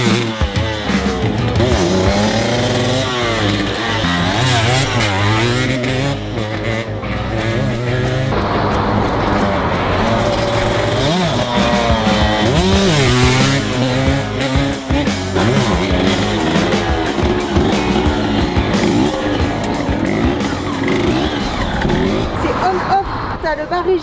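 Yamaha DTX motorcycle revving hard and pulling away while being ridden, the engine note rising and falling continuously and loud throughout, with speech over it.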